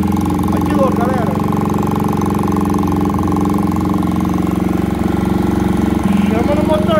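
A Yamaha R15 motorcycle engine idles steadily and loudly close up, with air hissing through the throttle body; the engine has been modified with a TBI and exhaust.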